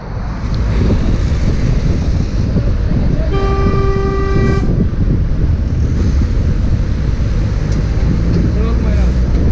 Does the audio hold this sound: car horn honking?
yes